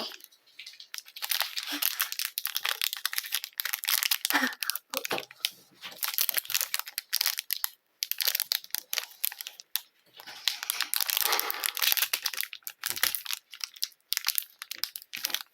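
A crinkly plastic jelly bean package is torn and tugged at close range, in bursts of loud crackling and crumpling separated by short pauses, with a voice speaking briefly.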